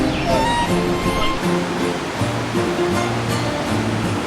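Waterfall at Warm Garden in Hsinchu, a steady broad rush of falling water with background voices and faint tonal sounds over the top.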